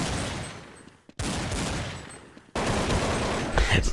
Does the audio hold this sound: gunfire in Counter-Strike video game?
yes